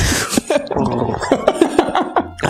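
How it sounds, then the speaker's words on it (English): Several harsh, close coughs in quick succession, rough and irregular, mixed with throaty sounds. "Gotta cough it out."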